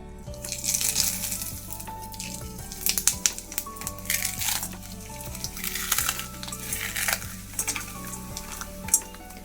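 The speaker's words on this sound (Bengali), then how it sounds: "সামান্য একটুখানি মুগ ডাল দিলাম আজকে আর এবার যে সবজিগুলো রেখেছিলাম সেগুলো সব দিয়ে দিলাম" A little moong dal and chopped vegetables fry in a pan. Busy sizzling is broken up by repeated scraping and crunching stirs, over a low steady hum.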